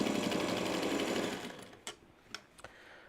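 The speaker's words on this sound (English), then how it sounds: "Can you hear the sound of the 301 while I'm sewing?" Singer 301 sewing machine running in a steady, fast whirring stitch for about a second and a half, then stopping, followed by a few faint clicks and handling sounds, close and quiet, with no speech.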